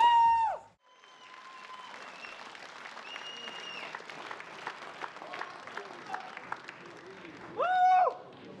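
An arena crowd at an RCC Intro 16 MMA tournament applauds a fighter after a bout. Steady clapping runs under a loud announcer's voice at the start and end.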